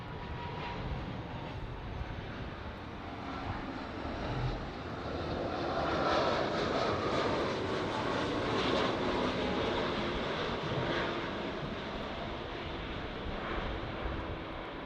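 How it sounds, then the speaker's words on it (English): A Hawaiian Airlines Airbus A330 touches down at LAX, its distant jet engine roar a broad rushing rumble that swells in the middle and eases off, with no voices over it. "There we go, nice touchdown for the A330."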